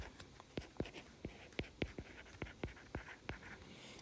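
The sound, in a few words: writing out interval notation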